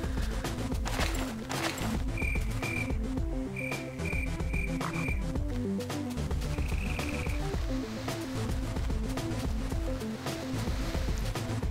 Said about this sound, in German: Beeil dich, die Grillen zirpen